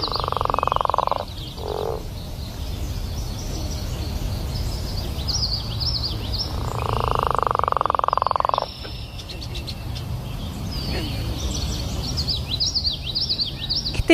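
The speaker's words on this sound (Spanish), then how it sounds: "Este es el sapo de 4 ojos, el coicoi." A four-eyed frog (coicoi) croaks in long buzzing calls, one early and a second longer one midway, over a dense background chorus of frogs, insects and high chirping birds.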